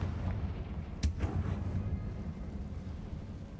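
A Confringo explosion spell cast in the Hogwarts Legacy video game: one sharp blast followed by a short rumbling decay, moderately loud against quiet game ambience.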